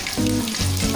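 Bay leaf, marathi moggu and cardamom hit hot ghee for ghee rice, giving a loud, steady, close sizzle that crackles throughout with no voices.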